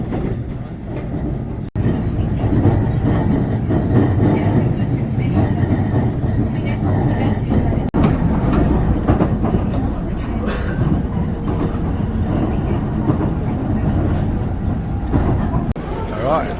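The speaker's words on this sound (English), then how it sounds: "we're on the Seoul train" A train runs on rails through Seoul with a continuous loud interior rumble and clatter, marked by occasional sharp clicks and thumps, while people talk over it throughout.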